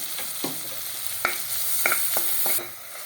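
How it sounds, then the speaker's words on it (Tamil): Finely chopped onion sautéing in a pan for Mexican rice, a steady close sizzle with several sharp scrapes of a spoon stirring against the pan, no talking. "வெங்காயம் ஒரு முக்கால் கப் அரிஞ்சு வச்சுருக்கேன் அதுவும் பொடியாக தான் அரிஞ்சு வச்சுருக்கேன் அதையும் போட்டு நல்லா வதக்கிட்டுருக்கலாம்"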